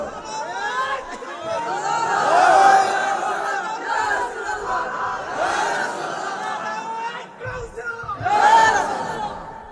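Crowd at a Bengali Islamic gathering for Eid-e-Milad-un-Nabi raises a loud collective chant of slogans, surging in waves with swells near the start and end, voices overlapping into a dense roar.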